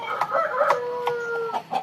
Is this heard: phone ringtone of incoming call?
no